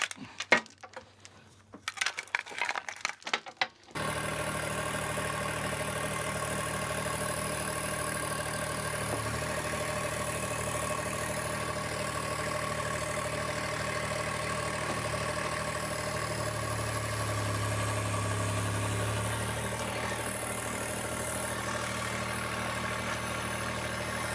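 A tractor engine runs at a steady idle while the bucket is tilted back, a continuous even mechanical drone preceded by a few seconds of brief clattering knocks.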